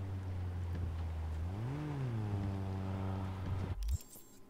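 A car engine in the Cyberpunk video game hums at a steady idle, rises in a smooth rev and settles back down, close and alone, before cutting off abruptly near the end.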